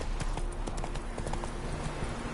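A horse gallops in The Witcher 3: Wild Hunt, a rapid, steady clip-clop of hooves running close and clear over a continuous background.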